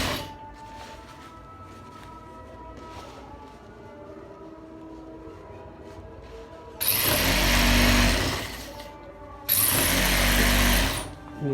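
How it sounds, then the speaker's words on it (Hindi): A tailor's sewing machine stitches a gents pajama in two loud, steady runs of rapid mechanical whirring, the first about four seconds and the second shorter, set apart by quieter workshop background. "हितां सिलाई खणी करे मुकमल ठाहींदासीं।"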